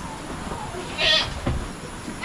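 Goats on a rainy farm let out a single clear bleat, close and moderately loud, with another faint one after it over steady background noise.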